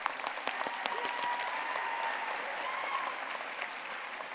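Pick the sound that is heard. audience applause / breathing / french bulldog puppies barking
audience applause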